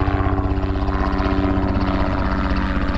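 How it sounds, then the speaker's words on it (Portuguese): Helicopter rotor chop overhead, a steady pulsing thud over a continuous engine drone, fairly loud and sustained with no talking. "Helicóptero. Será que vai dar pra ver?"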